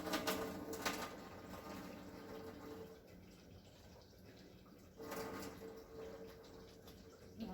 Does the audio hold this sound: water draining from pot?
yes